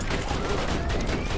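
A sentry gun in Borderlands 2 fires in a dense, continuous rattle that is loud and close and fills the whole moment without a break.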